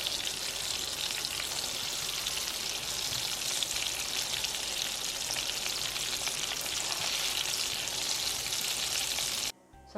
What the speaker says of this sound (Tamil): ஒரு 4 மீனாக போட்டு நான் எல்லா மீனும் பொரித்து எடுத்துக்கிறேன்